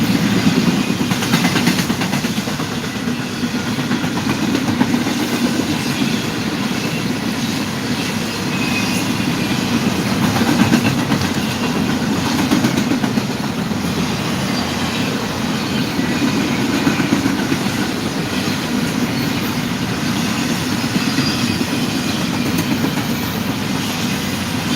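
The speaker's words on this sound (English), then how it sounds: "this train passes through here." A passing train makes a steady, low rumble of rolling wheels and cars that holds at an even level throughout, with no talk over it.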